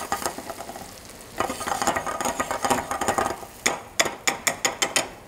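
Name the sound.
stirring herb omelette eggs in a pan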